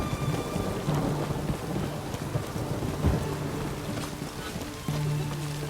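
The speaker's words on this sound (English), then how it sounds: "The storm, damn it." Thunderstorm in the video game The Witcher 3: Wild Hunt, steady heavy rain with a booming thunder crack near the middle and low rumbles throughout, continuous and fairly loud with no talking.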